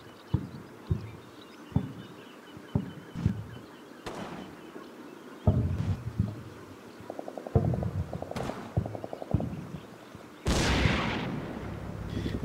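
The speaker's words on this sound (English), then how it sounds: "Machine gun again." Machine gun fire in the video game Combat Mission: short distant bursts and single thumps spaced irregularly, with a couple of rapid rattling volleys and a louder blast near the end.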